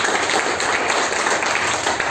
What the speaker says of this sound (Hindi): तो एक बार जोरदार ताली होनी चाहिए